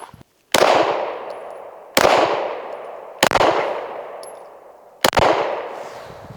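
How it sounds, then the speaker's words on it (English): Four loud, sharp pistol shots from a SIG P320 XFIVE at an outdoor range, fired at spaced, slightly uneven intervals, each with a crisp crack and a ringing decay, with no talking. "Let's just try 5 more shots."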